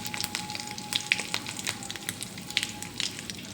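Asafoetida and curry leaves spluttering in hot oil for a tempering for ridge gourd chutney, a close, busy crackling sizzle with sharp little pops throughout and no talking.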